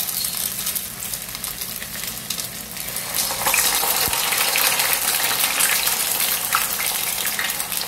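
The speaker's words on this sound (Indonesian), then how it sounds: "Aku goreng risol dulu ya teman-teman." Risoles fry in hot oil in a wok, giving a steady, close bubbling sizzle that grows slightly louder partway through, with no voices over it.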